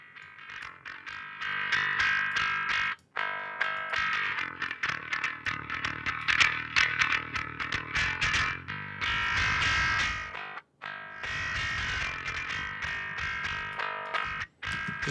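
Bass guitar played through a TSC overdrive pedal, a SansAmp-style clone, for a metal mix: a loud, gritty distorted bass riff that holds steady for about fifteen seconds, broken only by a few brief stops.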